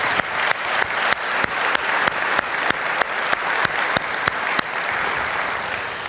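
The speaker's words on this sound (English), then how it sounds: "So please join me in a big round of applause and thanks for our panelists." Audience applause for the panelists at the close of a banking technology debate, steady clapping across the whole stretch with sharp periodic claps standing out, easing slightly toward the end.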